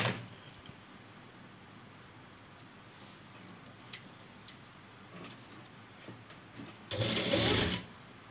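A sewing machine stitches a double layer frock: a steady, close mechanical run of fast needle ticks throughout, fairly quiet, swelling into a louder burst near the end.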